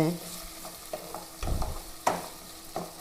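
Onions frying in a pan while being stirred, a soft steady sizzle under intermittent scraping and clinking of a utensil against the pan, fairly close and quiet, with no voices.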